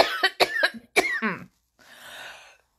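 A person coughs several times in a quick, harsh burst, followed by a softer breathy throat sound after a short pause.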